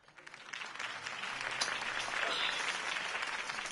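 A crowd bursts into applause in Batman: The Telltale Series, the clapping building quickly from a few hands into a loud, sustained wash.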